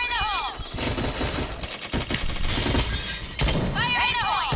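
Gunfire in the first-person shooter game Point Blank sounds in rapid bursts with shattering impacts, mixed with game effects and busy chatter.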